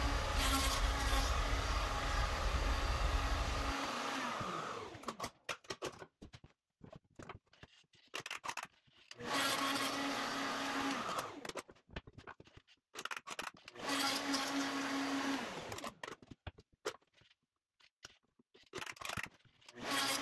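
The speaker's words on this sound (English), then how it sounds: "I used the PantoRouter to cut some recesses" A PantoRouter machine routes tenons in wood in three loud bursts of steady whirring cut, each lasting a few seconds, with quieter handling clatter and pauses between them.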